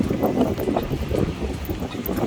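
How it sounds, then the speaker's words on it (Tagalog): Cold wind gusting across a long bridge in Siargao, a steady broadband rush buffeting the microphone throughout, with no voices over it. "Lamig ang hangin. Sarap ng hangin."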